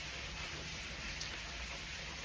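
Steady rainfall in Grozny, a dense even hiss of falling rain with no pauses, faint and distant in the background.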